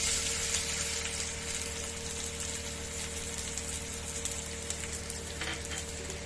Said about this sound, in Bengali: আমার তেল গরম হয়ে গেছে। ওর মধ্যে দিয়ে দেবো 1 চামচ জিরা, ছোট ছোট করে কেটে রেখেছিলাম রসুন কুচি দিয়ে দিলাম।